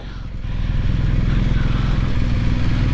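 A motorcycle engine idles and rumbles up close with a steady low throb, being moved into a hotel garage for parking in Albania, the sound holding level and loud throughout.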